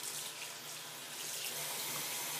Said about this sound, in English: and then turn the warm water back on